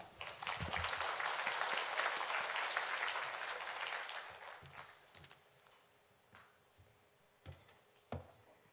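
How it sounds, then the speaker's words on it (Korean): Brief congregational applause welcoming a pastor to the pulpit at an early-morning church prayer service, a dense burst for about four seconds that fades, followed by faint scattered clicks and taps in a quiet room. "나오실 때 큰 박수로 환영하겠습니다"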